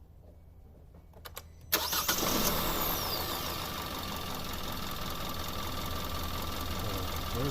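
A 2016 Kia Soul 2.0L with a no-power fault cranks with a few short clicks, catches and starts, then settles into a steady, close idle, with a brief spoken word just before it fires.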